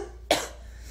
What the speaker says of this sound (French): En plus, je retousse gras.